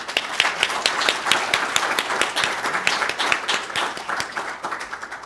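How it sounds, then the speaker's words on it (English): An audience at a research showcase plenary session applauds poster presenters with sustained, dense clapping filling the room, moderately loud and steady throughout. "Let's give a big round of applause to all the poster presenters today."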